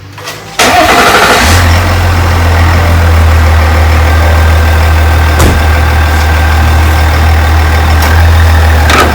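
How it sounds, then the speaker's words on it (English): A 2023 GMC Yukon Denali with the LM2 Duramax diesel cranks and fires up, then settles into a loud, steady, close-up diesel idle with a deep constant drone. "So I'm going to run the engine for a couple of minutes."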